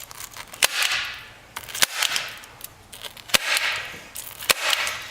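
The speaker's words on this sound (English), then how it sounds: "so don't be shy with the staple gun." A staple gun fires into a vinyl cover four times, each a sharp, loud snap spaced about a second apart, with a rustling, crinkling sound of the vinyl handled between shots.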